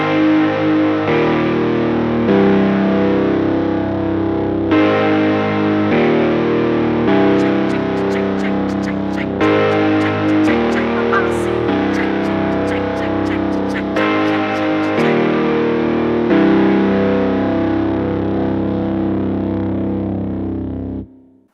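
Distorted chord progression built in FL Studio, playing the opening of a song; a loud, steady synthetic riff with sustained harmonic layers and a brief sparkle of high clicks in the middle, no voices.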